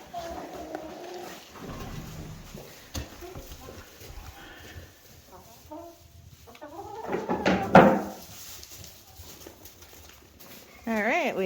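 Hens, including black hens, cluck and squawk inside a barn stall converted into a chicken coop, with intermittent calls, a loud burst in the middle, and people talking over them.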